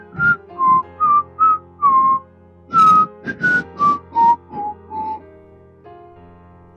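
A person whistles a bright, cheerful tune in short separate phrases, clear and fairly close, with a brief pause midway and no talking.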